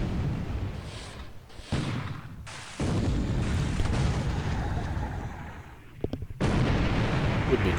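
Naval gunfire rolls in as heavy booms and blasts during a War in the Pacific naval battle, with destroyers engaging a minelayer, loud, broad bursts separated by abrupt cuts and short gaps.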